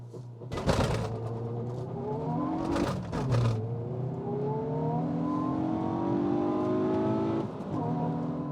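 A Hyundai i20N launches hard with heavy tyre spin on a cold day, a sharp burst of wheelspin and engine roar followed by rising, closely stacked engine tones as it pulls through the gears, loud and near.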